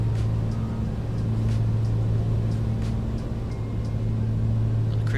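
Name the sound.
Piper PA-24 Comanche aircraft engine at cruise power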